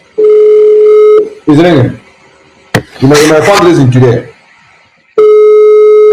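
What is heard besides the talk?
telephone ringing tone during a call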